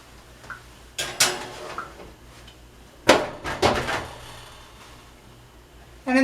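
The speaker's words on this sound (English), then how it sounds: "Okay, so we're going to put these in the oven" A tray of loaded pizza buns goes into a preheated home oven with a few sharp metallic clanks and knocks of the rack and oven door, separated by quiet pauses.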